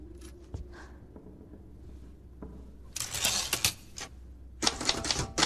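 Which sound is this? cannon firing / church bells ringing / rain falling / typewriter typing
typewriter typing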